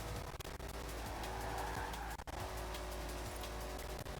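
Fast car driving in a racing video game streamed over Xbox Cloud Gaming, with a steady loud engine roar and tire noise running throughout and a brief dip partway through.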